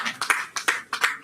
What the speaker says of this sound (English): We clap for you.